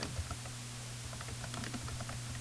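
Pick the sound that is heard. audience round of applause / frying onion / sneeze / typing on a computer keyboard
typing on a computer keyboard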